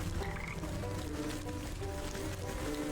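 Frogs croak in the Wytchwood video game with repeated, raspy calls over a dense, rustling ambient bed, close and clearly audible.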